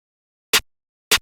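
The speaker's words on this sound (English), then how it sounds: "Then we have the snare slash clap." A bright snare-clap layer from a trap beat hits twice in isolation, each a short crisp snap with a sharp noisy burst and quick decay, spaced evenly apart.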